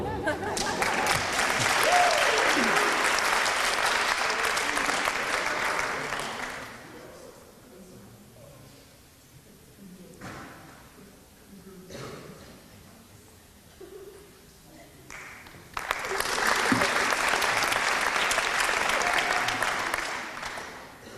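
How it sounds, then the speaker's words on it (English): A banquet audience at a girls varsity soccer state championship awards night breaks into applause, fades to quiet with scattered voices and a few stray claps, then bursts into a second strong round of clapping. "maybe we can applaud after each one of them"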